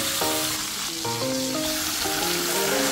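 Smoked tamban fish frying in hot oil until golden brown, giving a dense, close, continuous sizzle and crackle with faint tonal clinks, and no voices.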